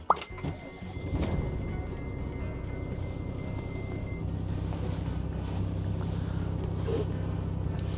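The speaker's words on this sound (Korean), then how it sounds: "시동 한번 걸어 볼게요" A 2018 Hyundai Prima 4.5-ton wing-body truck, heard from inside the cab, starts with a thump and clatter and then settles into a low, steady diesel idle.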